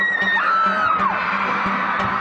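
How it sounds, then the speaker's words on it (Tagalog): Shrill screams and whoops from a crowd of fans of the Kim Chiu and Gerald Anderson love team, loud and close, with rising and falling high-pitched cries over a steady crowd roar. "Nakakatuliling na sigawan."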